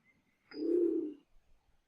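A single Nicobar pigeon gives one low, soft coo lasting under a second, close and fairly faint against a quiet background.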